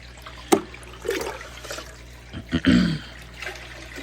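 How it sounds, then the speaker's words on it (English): Aquarium tank water poured from a bucket splashes in short uneven bursts, a brief splash early and a fuller pour later, moderately close in a quiet room. "So I'm just taking some water from this bucket and dumping it right into there."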